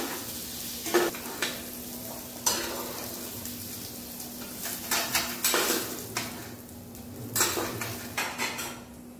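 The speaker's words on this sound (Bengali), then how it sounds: "পটলগুলো সুন্দর করে লাল লাল করে ভেজে নিয়েছি, আর তুলে নেবো" Pointed gourd fries in oil in a wok, a steady sizzle broken by repeated clinks and scrapes of a spatula against the pan, close up with no talking.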